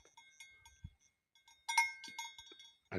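A metal bell hung on the neck of a Maasai cow chewing its cud clinks in a few bright, ringing taps, with a louder cluster near the middle, fairly close and otherwise quiet around it.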